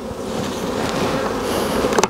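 Honeybees buzz steadily across a brood frame lifted from a hive, a dense close swarm hum with small shifts in pitch, and no voices.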